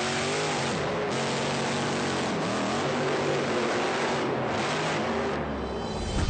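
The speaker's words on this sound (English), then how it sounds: "the Hurst Hemi Under Glass has been the king of the wheel standards at drag strips all across the country" Big supercharged Hemi V8 in the Hurst Hemi Under Glass, a 1965 Plymouth Barracuda wheelstander drag car, roaring loudly and steadily throughout with rising and falling revs, close up and with no talk.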